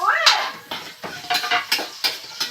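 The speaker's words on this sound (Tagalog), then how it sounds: "pagaluin lang po natin ang sibuyas, bawang" Onion and garlic stirred in a pan, with sharp metallic clinks of a utensil against the pan in an irregular rhythm, close and moderately loud.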